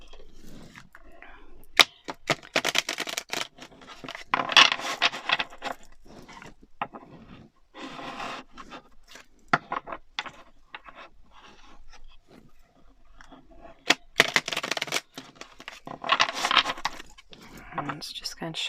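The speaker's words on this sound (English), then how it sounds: "I'm just going to shuffle one more time" Tarot cards being shuffled in bursts of quick riffling and scraping strokes, close up, separated by quiet gaps, with brief bits of other handling noise.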